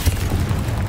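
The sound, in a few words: Confringo spell explosion, Hogwarts Legacy video game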